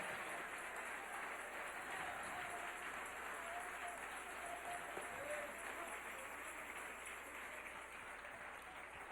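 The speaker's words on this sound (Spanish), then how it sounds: "Dale un aplauso al Rey en esta preciosa noche." Church congregation applauding during an evening service, a continuous, fairly distant wash of clapping with faint voices underneath and a constant high-pitched hum.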